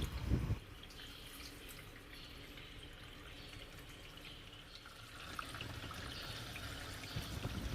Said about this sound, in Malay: Biarkan air mengalir ke hos pembuangan